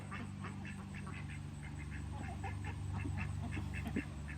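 Ducks quacking in a garden, a steady run of repeated nasal quacks at moderate distance over a constant low background hum, with no talking.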